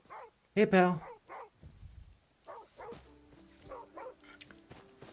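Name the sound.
dogs barking in a video game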